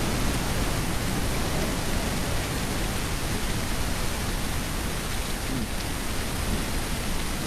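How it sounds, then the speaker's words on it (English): Heavy rain pours steadily through a forest, a dense, unbroken hiss of drops hitting foliage and ground that stays loud and even throughout, with no voices. "Still raining pretty heavy."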